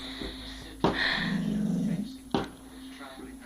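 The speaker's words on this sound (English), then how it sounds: "My dog's barking at the fireworks." A dog growls low and intermittently during a fireworks night at home, with a couple of sharp pops and muffled rumbles around it and a person speaking softly nearby.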